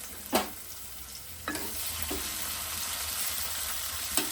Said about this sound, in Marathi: आता मिरची चांगली तेलामध्ये फ्राय करून घ्यायची आहे